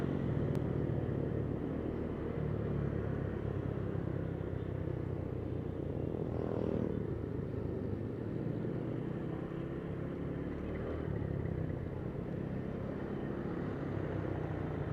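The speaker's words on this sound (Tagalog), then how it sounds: "Ito na, nagsisimula na ang traffic." Road traffic in Santa Rosa, Philippines, with cars and motorcycles building up at green lights: a steady, dense rumble of engines and tyres, continuous and fairly loud throughout, with no talk.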